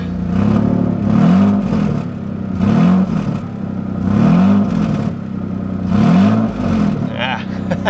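A van engine with a damaged exhaust runs rough and loud up close, the rattling exhaust surging and chugging in a regular pulse every couple of seconds.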